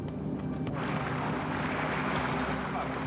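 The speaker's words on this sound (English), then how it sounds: "With boats producing so much background noise, hearing manatees is very difficult." Boat motor noise in the waters off Puerto Rico drones steadily, a dense continuous rumble with a washing hiss of water and wind, loud and unbroken throughout.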